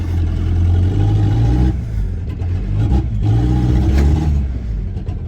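A diesel Jetta TDI towing a trailer on a cold day strains to pull away, its engine droning and revving in waves as the tires spin, loud and close with no talk.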